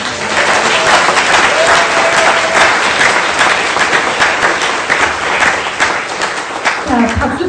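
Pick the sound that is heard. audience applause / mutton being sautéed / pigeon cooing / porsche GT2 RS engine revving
audience applause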